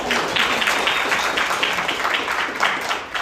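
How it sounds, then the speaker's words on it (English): Audience applause after a cannabis retail marketing talk: dense, loud clapping from a nearby crowd, sustained evenly throughout without voices. "Round of applause, everybody."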